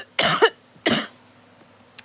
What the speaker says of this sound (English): I'm not going to edit that fucking cough out.